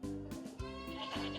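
Young goat kids separated from their mothers in a pen on a dairy farm bleat loudly and close by, several overlapping wavering cries in quick succession.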